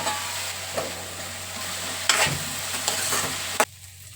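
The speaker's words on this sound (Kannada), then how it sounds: "ಹೆಚ್ಚಿಟ್ಕೊಂಡಿರೋಂಥ ಟೊಮೊಟೊ ಕೂಡ ಆ್ಯಡ್ ಮಾಡಿ ಫ್ರೈ ಮಾಡ್ಕೋತಾ ಇದ್ದೀನಿ ಚೆನ್ನಾಗಿ" Chopped tomatoes fry in a pan, a continuous close sizzle broken by a few sharp stirring clinks and scrapes before it suddenly cuts off.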